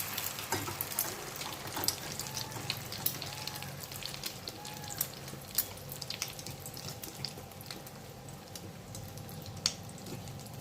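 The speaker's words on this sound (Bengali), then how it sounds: "তারপর আমি এটাকে পাউরুটিতে দিয়ে ডিমে ডুবিয়ে নিয়ে এরপর ভাজবো।" Bread slices filled with fish and salami, dipped in egg and frying in a pan, give off a steady sizzle with frequent sharp crackles and pops throughout.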